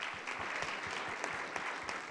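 An audience at an investment summit claps in a steady, dense burst of applause, a full room of hands heard close and continuous for a couple of seconds.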